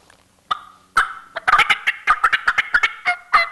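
Turkey calls imitating several turkeys cutting, a burst of loud, sharp, rapid clucks and cuts in irregular quick succession, close and alone.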